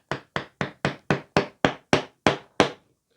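Ten sharp, evenly spaced knocks as a wooden wedge is tapped in to clamp glued boards, close and fairly loud, with no voices.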